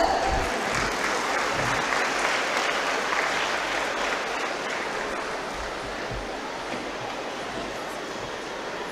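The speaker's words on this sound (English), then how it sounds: "Please, a round of applause for her." An audience at a school annual day celebration claps steadily throughout, a broad, even wash of applause heard from within the hall.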